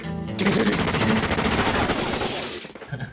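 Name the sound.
gunfire in a movie scene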